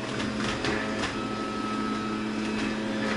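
A juicer runs at low speed, grinding leafy greens such as spinach, giving a steady mechanical hum with a faint whine and occasional crunching ticks, close by and without talk.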